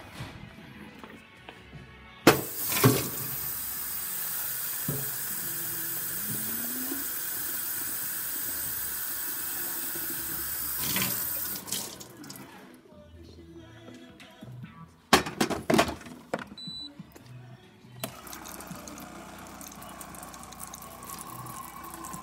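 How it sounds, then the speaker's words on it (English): Steady hissing rush of hot water streaming from the spout of a DeLonghi Prima Donna Deluxe espresso machine for several seconds, broken by clicks and a brief gap, then a second burst of hiss. "Hot water working fine"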